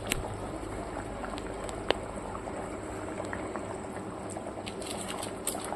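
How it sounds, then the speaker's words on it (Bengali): Curry sauce boils hard in a pot on the stove, a continuous close bubbling and simmering hiss with occasional small pops, steady throughout with no speech. "এবার এটাকে জোর ফুটতে দেবো"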